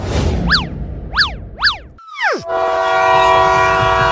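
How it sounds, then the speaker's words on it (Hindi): A train pulls away into a forest route, sounding a series of short rising-and-falling horn blasts followed by a long sustained horn tone over rumbling rail noise, loud and close. "ट्रेन चलने लगी।"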